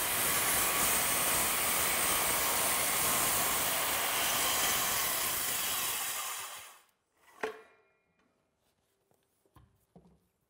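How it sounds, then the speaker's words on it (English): A circular saw makes the end cut on a wooden tenon, a loud, steady high whine of the blade biting through timber for several seconds, then it stops abruptly and a few faint knocks and clatters follow. "I'm going to make the end cut of the tenon with a skill saw from 2 sides"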